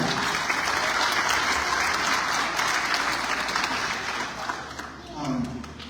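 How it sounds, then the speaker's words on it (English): Graduates at a Pathway Academy commitment ceremony applaud themselves with dense, steady clapping that fills most of the moment, then thins out and gives way to a voice starting to speak. "can you give a round of applause to yourselves"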